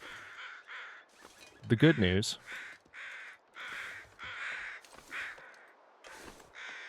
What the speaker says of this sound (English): those sound like carrion crows now that I think about it